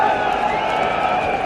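Enormous crowd of Indian supporters at a 1983 World Cup cricket semi-final against England, cheering and applauding in a steady, dense roar throughout.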